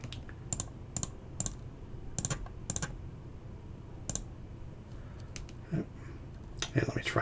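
Computer keyboard and mouse clicks come in sparse, separate taps and short bursts at a moderate level against a quiet room hum, with no talk during them.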